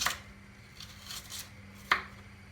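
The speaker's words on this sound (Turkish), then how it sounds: "Soğanları doğruyorum." Onions being chopped with a knife, a few quiet, sparse cuts spread out over a couple of seconds with a soft background hiss.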